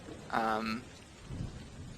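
A storm at sea with rain and thunder, heard as a steady wash of rain and a low rumble of thunder near the end, with a short stretch of voice over it.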